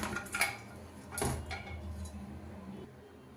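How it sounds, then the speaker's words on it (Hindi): Steel utensils clinking as cooked litti are lifted out of a pressure cooker into a vessel in a home kitchen: a few sharp, fairly quiet metallic clinks and scrapes against a low room hum. "कुकर से हम सारे लिट्टी को निकाल लेते हैं।"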